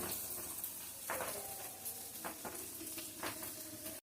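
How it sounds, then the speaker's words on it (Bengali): Spices and tomato sputter and crackle as they fry down in a pan for a paneer and chickpea dish, with a soft continuous sizzle and a few sharper pops, fairly faint throughout. "এখন আওয়াজ হচ্ছে ফুটফুট করে"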